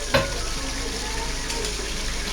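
Spinach leaves dropped into a pot of tender cooked mutton, setting off a steady, close sizzle and hiss that holds evenly throughout, with a brief clatter at the start.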